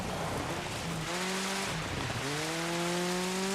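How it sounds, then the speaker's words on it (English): A racing video game plays with steady rain hiss as the weather effect while a car engine revs and shifts through rising tones, loud and continuous with no talking. "But I chose to have rain as the weather effect."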